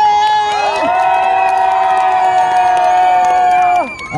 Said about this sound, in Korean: 그러면 박수 환호 소리 크게